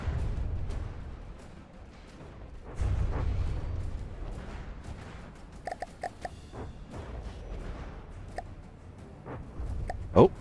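Weapons fire in the naval and airship combat game From the Depths. Low rumbling booms recur across the scene, with a quick run of sharp, distant shots partway through and a louder blast at the end.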